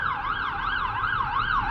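A wailing ambulance siren passing on the street, its rising and falling tone sweeping steadily and fairly loud over low traffic rumble, with no speech.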